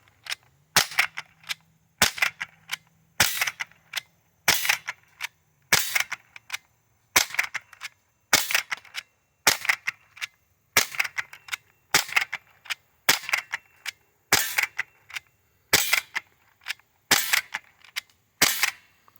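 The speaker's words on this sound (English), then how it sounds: "I'll shoot slowly" Umarex MP-5K CO2 BB gun fired in slow single shots, about sixteen sharp loud cracks spaced roughly a second apart, with quiet gaps between and no talking.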